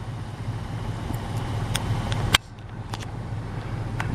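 A car drives down a rural ranch road with a steady mid-low engine and road rumble. Light clicks and rattles come from inside the cabin, and a sharp knock sounds partway through.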